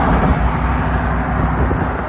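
A car passes along a city street at night with a steady, broadband road and engine rumble, close and moderately loud with no clear voices.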